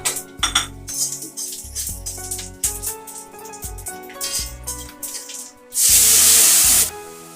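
Bay leaf and five-spice seeds go into hot mustard oil in a pan after a run of metal clinks and scrapes, then a loud burst of hissing sizzle lasts about a second.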